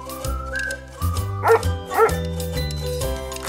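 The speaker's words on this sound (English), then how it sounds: "D for dog." A dog gives a couple of short, close barks and yips over light background music.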